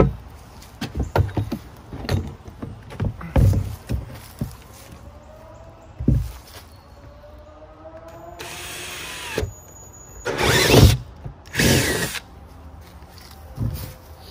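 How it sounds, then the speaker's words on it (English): A drill with a hole saw bit cuts into a plastic trash can near its bottom, in short loud whirring bursts mixed with knocks and scraping handling noises, close by. "the first thing you want to do is to drill a hole right near the bottom of the trash can."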